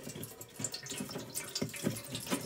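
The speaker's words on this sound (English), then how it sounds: "Just loosen it up a little. And you can see the water is coming out." Water trickles and splashes steadily from the loosened drain filter of a Maytag front-loading washing machine, a faint close-up pouring with small irregular drips.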